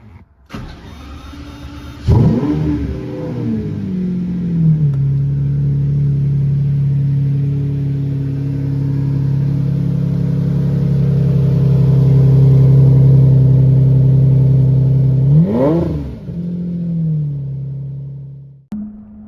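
A Lamborghini Murcielago engine cranks, catches and settles into a loud, deep idle, then a sharp rev blips near the end before cutting off.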